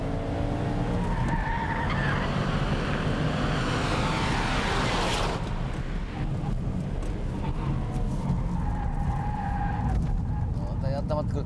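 A rally car, either a Subaru Impreza or a Mitsubishi Lancer, runs hard on a track with sustained tire skidding and engine roar, with someone talking over the noise.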